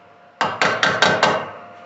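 A hammer strikes a metal part on a 1968 Mercedes-Benz 280S, five quick close, loud metallic blows in an even rhythm, with no talking.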